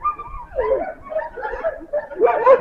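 Young sled dog, about three years old, at the working kennels of Denali National Park, giving a few close yips and whimpering barks in short bursts, loudest near the end.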